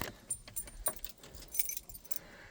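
Metal keys jangle and clink in quiet, irregular bursts as an old key is worked off a key ring beside a greasy old Ford truck.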